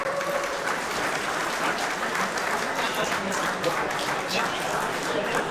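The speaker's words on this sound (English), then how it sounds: "So let's give her a round of applause" An audience at a customer appreciation event applauds a presenter, giving steady, dense clapping that holds at an even level throughout with faint crowd murmur beneath.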